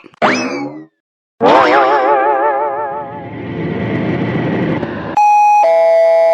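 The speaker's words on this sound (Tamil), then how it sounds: "என்ன காலிங் பெல் அடிக்கிற சத்தம் கேக்குது?" Wobbly cartoon boing effects play first, then a bright two-tone electronic doorbell chime rings clearly at the end.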